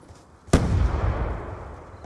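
A frag grenade detonates in Call of Duty Black Ops 2 during a Search and Destroy match on Standoff, a single sharp, loud blast that rolls into a long decaying rumble.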